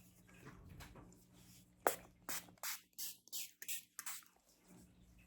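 A series of short, quiet mist sprays of Beauty Creations Coconut Mango Setting Spray, about seven quick bursts in a loose rhythm after a faint rustle, close by.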